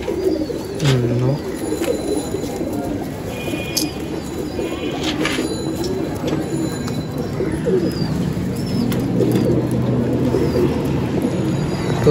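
High flyer pigeons coo in steady low, rounded rolls through a busy loft ambience, with occasional chirps and a brief word of nearby talk.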